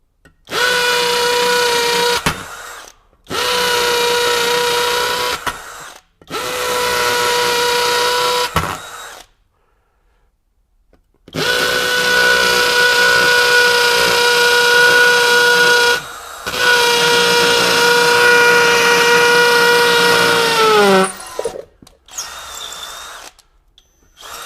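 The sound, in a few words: Kobalt KHD124 24V brushless hammer drill, masonry bit, hammer mode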